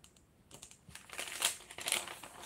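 Thin sheet of tracing paper being picked up and handled, a few soft crinkles and rustles building slightly louder toward the end, close and quiet with no talking.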